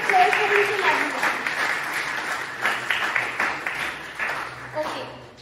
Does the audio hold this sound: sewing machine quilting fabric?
no